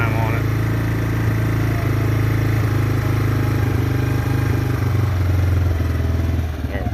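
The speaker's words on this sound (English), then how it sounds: "You can see how it kind of revs up after you get it warm." A rebuilt Yamaha Wolverine ATV engine runs loud and close, warmed up and revving with a steady mechanical clatter throughout.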